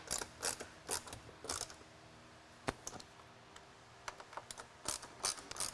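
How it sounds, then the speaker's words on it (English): Fasteners being tightened on Molle panels fitted to a Ford Bronco four-door hard top, heard as scattered close ratcheting clicks and short mechanical bursts in uneven clusters, with a sharp snap partway through and no talking. "I'm going to tighten down all of my fasteners and start tightening from the middle"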